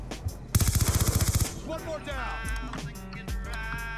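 Rapid automatic gunfire in Black Ops 2 multiplayer, a close burst of about a dozen evenly spaced shots lasting roughly a second, followed by game effects and a voice talking.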